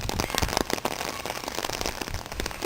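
Heavy rain patters irregularly on surfaces during a windy storm, with close, uneven bursts of drops and splashes that rise and fall in intensity.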